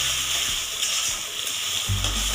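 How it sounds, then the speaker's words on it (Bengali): Gobindobhog rice sizzles steadily as it is fried and stirred in a pan over a high gas flame for a Bengali fish head curry, with a low scraping rumble of stirring between the sizzling. "নাড়তে নাড়তে গোবিন্দভোগ চালটা আমার একদম ভাজা ভাজা হয়ে গেছে।"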